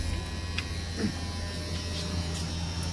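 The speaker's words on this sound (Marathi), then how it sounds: "कूलर गेलं चालू." An indoor air cooler just switched on, giving a steady close electric motor hum and buzz with a low fan drone, constant throughout with no speech.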